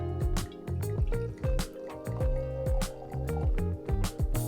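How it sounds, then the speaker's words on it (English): Kirkland Signature Napa Valley red blend wine is poured into a glass in a small pour, making a close, steady gurgling stream broken by rhythmic glugs and drips. "Let's go ahead and have this pour"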